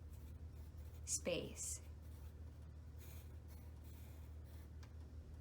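Soft scratching of pen or pencil on paper as someone writes by hand while drawing a petal design, faint and close, under quiet speech.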